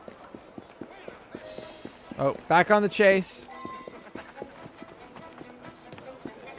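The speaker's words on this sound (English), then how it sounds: "Oh, hello, horses." Horses clip-clop past on a cobbled street in Assassin's Creed: Syndicate, a brief burst of hooves and carriage rattle rising loudly in the middle amid sparse game sounds, with someone talking over it.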